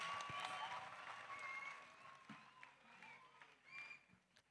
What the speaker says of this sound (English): Clap offering.